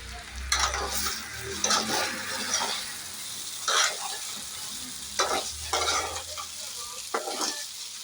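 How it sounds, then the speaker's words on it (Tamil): Idli pieces tossed with turmeric and chicken masala are stirred in a pan, giving close, intermittent scraping bursts over a soft frying sizzle. "இப்போ இதை நல்லா மிக்ஸ் பண்ணிக்கலாம்."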